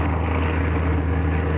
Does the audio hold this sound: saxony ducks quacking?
no